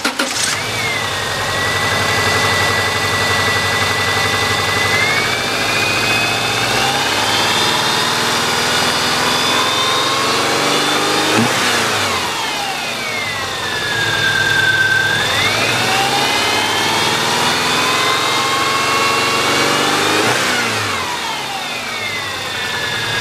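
A 2000 Subaru Legacy Outback engine starting and running, a loud steady idle with pitch rising and falling through a few revs, close and alone.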